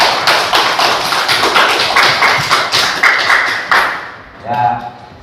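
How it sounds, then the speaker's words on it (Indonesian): Children in a school classroom clapping their hands together in a brisk, fairly rhythmic series of close claps, with a voice heard near the end as the clapping stops. "Tepuk tangan untuk Bang Zelani yuk."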